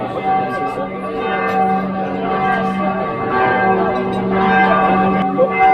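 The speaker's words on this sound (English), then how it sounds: "You can see the bells are still going" Church bells ring steadily in an Eastern European town, a loud, sustained peal of overlapping tones that fills the whole stretch, with a voice speaking faintly underneath.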